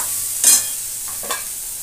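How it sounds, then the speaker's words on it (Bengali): Soy chunks sizzle steadily in a hot pan, with two brief scraping stirs breaking the constant frying hiss. "সয়াবিনটা ভাজা ভাজা হয়ে গেছে, এতে জল দিয়ে"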